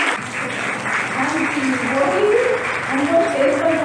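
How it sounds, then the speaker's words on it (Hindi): Audience clapping at an International Women's Day event with a fancy dress show, steady and fairly loud, blended with background music and voices throughout. "जोरदार करतल ध्वनि के साथ। आपकी तालियां बजती रहे।"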